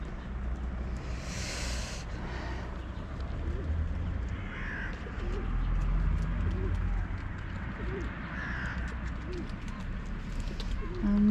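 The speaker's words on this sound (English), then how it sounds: "Here's the little bird." Small bird calling outdoors at a backyard feeding spot, with other birds such as pigeons, doves and crows cawing and cooing nearby; short chirps and calls recur over steady low ambient noise.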